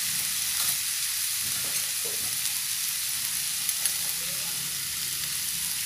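Fragrant onion and seasonings stir-fry in a hot pan with a steady, even sizzle close by, with a few soft stirring touches and one or two small clicks near the end.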